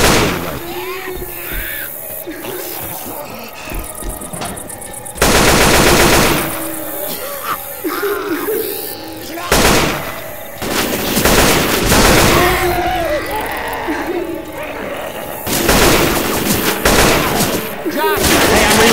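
Loud, sustained automatic gunfire from Left 4 Dead 2, with rapid bursts and dense volleys continuing across the whole stretch, punctuated by heavier blasts, with game voices talking underneath.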